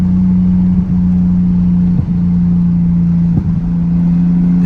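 A Nissan R32 Skyline sedan engine droning loudly and steadily on a straightaway, with brief dips as it downshifts, close and alone.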